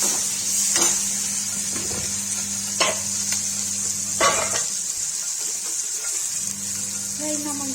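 Onions frying and being stirred in a pan, a steady sizzle with a few scraping stirs and clinks, fairly close, with a constant hum underneath.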